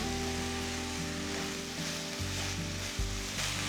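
Vegetables sautéing in a pan for a Tirunelveli sodhi with moong dal, a continuous close sizzle under a loud steady low hum from a nearby appliance.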